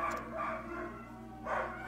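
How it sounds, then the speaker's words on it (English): A couple of short bursts of barking and yelping come from the neighbor's dogs nearby, two separate outbursts with a brief lull between them. "there go my neighbor's dogs again"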